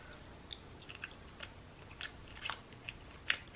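Someone chews stir-fried tofu close to the microphone, soft scattered mouth clicks and wet crunches spread irregularly over a few seconds in quiet surroundings, with a sharper sound at the very end.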